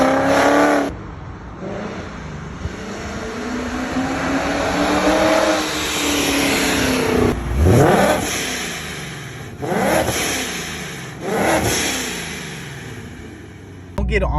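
A supercharged Ford Mustang drives with its engine revving and rising in pitch through several loud acceleration pulls, with brief pauses between them.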